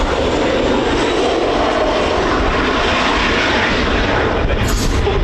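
Jet Pit Special aircraft, with jet engines strapped beside the fuselage, roaring steadily and loud at an airshow during a knife-edge pass, a broad continuous engine wash filling the whole stretch.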